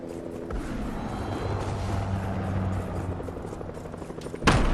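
A helicopter in Fortnite thrums as a low, steady, rhythmic rotor drone under game noise, ending in a sudden loud bang.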